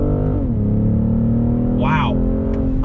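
A 2021 BMW M440i's engine drones steadily at speed, dipping briefly as a manual downshift lands before pulling on under throttle. The sound is loud and close inside the cabin.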